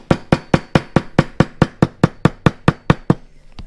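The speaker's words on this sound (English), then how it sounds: "This is a hammer trick on a gasket." A small hammer taps rapidly and evenly on a gasket, about fifteen sharp close knocks in quick succession, then stops.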